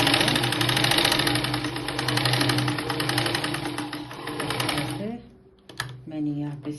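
A sewing machine stitches a blouse sleeve in one continuous, loud, close run with a fast even rhythm, stopping near the end before a few short handling sounds.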